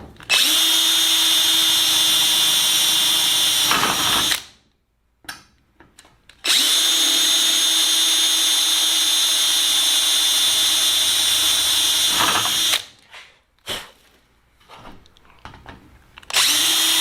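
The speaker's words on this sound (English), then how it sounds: "we have several holes here that need to be drilled the rest of the way through" A power drill whines loudly while boring holes through the aluminium rear spar of a Sonex kit aircraft, in two long sustained runs separated by short silences and brief starts.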